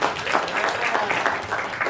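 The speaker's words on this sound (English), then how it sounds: "Clap it up for Abdul," An audience at a comedy show in the Elysian Theater, Los Angeles, applauds, a steady wash of clapping heard close and fairly loud.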